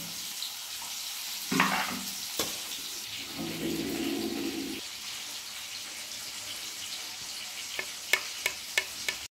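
Pieces of hilsa fish lowered one by one into hot oil and lightly fried, giving a steady close sizzle with a louder burst as each piece goes in and a few sharp utensil taps near the end.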